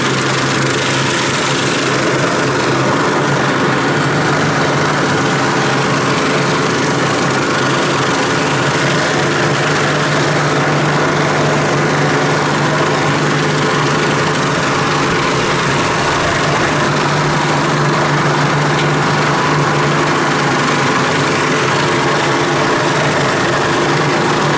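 A meat grinder minces rooster meat for pâté, its motor giving a loud, steady mechanical drone with a constant whine that runs unbroken for the whole stretch, with no voices.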